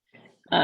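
A dog gives a brief low grunt, then a loud, abrupt bark-like burst that is cut off almost at once, close by and heard alone.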